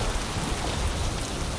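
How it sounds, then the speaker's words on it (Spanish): Tropical rain storm in the Maldives pours down in a loud, dense, unbroken hiss of heavy rain on surfaces, close and constant with no voices. "Como país tropical, las tormentas no son nada inusual en las Maldivas."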